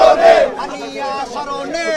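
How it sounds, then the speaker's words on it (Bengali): A crowd of protesters at a Gaza solidarity rally at Dhaka University shouts slogans together, a loud rising chant that carries on as massed voices over the open-air gathering. "তারা কিন্তু নানান ধরনের স্লোগান দিচ্ছেন এই জায়গা থেকে"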